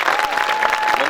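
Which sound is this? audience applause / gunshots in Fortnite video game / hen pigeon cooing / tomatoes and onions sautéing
audience applause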